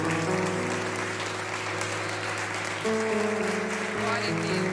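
A church congregation applauds during a worship service, steady broadband clapping sustained over sustained organ or keyboard chords, with some voices mixed in throughout.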